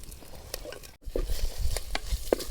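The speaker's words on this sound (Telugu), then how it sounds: "అల్లం వెల్లుల్లి పేస్ట్ వేసుకొని పచ్చివాసన పోయేదాకైతే వేగించుకున్నాను" Ginger garlic paste frying in a pan for fish head curry, a soft, steady sizzle with occasional stirring scrapes and small spatters, close and moderately quiet, with no talk.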